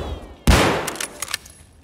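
A single loud Scav Mosin rifle shot booms in Escape From Tarkov, a sharp close crack followed by a long rolling echo and a few faint clicks as it fades.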